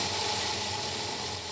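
A car engine fitted with an Edelbrock AVS2 carburetor idles smoothly with a steady, even rumble and hiss, loud and continuous throughout.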